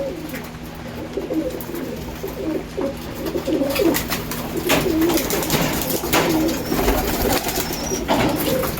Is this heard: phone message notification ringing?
no